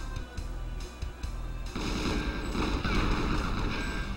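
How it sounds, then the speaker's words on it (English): Boxes exploding in the Nintendo 64 shooter GoldenEye 007, a sharp game blast that swells into a loud, rumbling burst lasting a couple of seconds after some earlier gunfire-like thumps. "Whoa, boxes explode."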